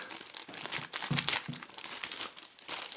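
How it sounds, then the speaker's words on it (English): A sealed plastic bag from a portable solar panel charger unboxing is crinkled and handled close by in irregular bursts, with one sharper rustle near the middle and quieter pauses between. "So let's recycle the plastic bag"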